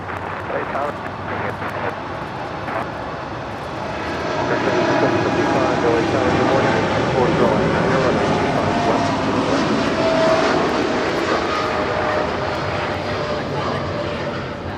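A Boeing 747 takes off from runway 25 left at LAX, bound for Portland, its engines a broad, loud, steady roar that swells midway through the takeoff roll and holds as it climbs, with a voice talking over it.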